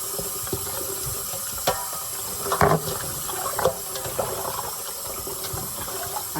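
Tap water runs steadily into a sink as pork ribs are rinsed, a continuous hiss broken by splashes and thuds where the ribs are handled under the stream.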